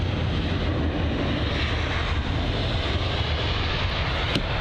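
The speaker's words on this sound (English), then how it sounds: "And it's once again another British Airways jet." A British Airways jet aircraft at London Heathrow fills the air with a steady, loud broadband engine roar and rush that holds without letting up throughout.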